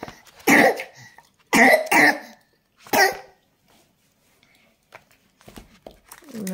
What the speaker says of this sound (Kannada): ಒಂದು ತಿಂಗಳಾಯಿತು ಕೆಮ್ಮು ಹೋಗ್ತಾ ಇಲ್ಲ.